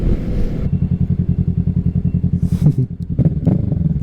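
A 2024 Kawasaki Ninja 650 fitted with an M4 exhaust idles with a steady, loping rumble of rapid even pulses, close and loud, then blips the throttle briefly before settling back to idle.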